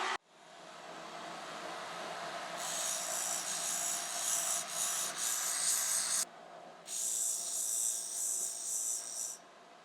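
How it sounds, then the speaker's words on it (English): Small strip sander grinding down a metal clamp, a loud continuous abrasive rasp that cuts out briefly after a quiet motor start, then resumes, close up with no talk. "little strip sanders, and I'll use that to grind down the metal"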